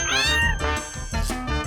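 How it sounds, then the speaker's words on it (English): A cat meows over a bed of light background music, a clear rising-and-falling cry that dominates the short clip before the music carries on alone. "It's a cat."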